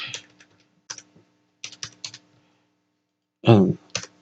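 Scattered clusters of sharp keyboard key clicks while a username and password are entered, several separate bursts with quiet gaps between them, close and clear, with a brief spoken word cutting in near the end.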